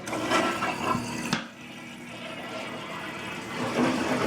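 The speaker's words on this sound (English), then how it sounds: "I'm going to flush." A household toilet with a blue Scrubbing Bubbles drop-in cleaning tablet in the tank flushes close by: a sharp rushing burst of water, then a quieter, steady refill hiss with no talking.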